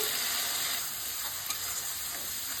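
Steady, close sizzling and crackling of nigella seeds frying in hot mustard-free fish-frying oil, a continuous bright hiss with no voices.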